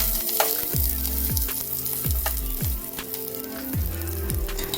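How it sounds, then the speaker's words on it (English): Onion and garlic fry in a pan with a steady, loud sizzle and crackle that holds throughout, with no one talking. "Make sure that the onion is translucent and the garlic is golden brown before we add the pork."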